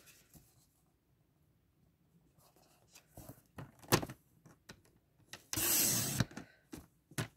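Paper is being cut for a handmade calendar, with quiet scattered snips and rustles, a few sharper cuts and one longer swishing stroke near the end, heard close up in a quiet room without talking.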